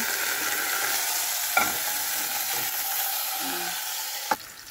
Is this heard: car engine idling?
no